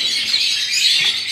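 Ringneck parakeet breeder pairs call in a cage setup, a dense wash of high, shrill chirps and squawks that continues without pause through the moment, fairly close and loud.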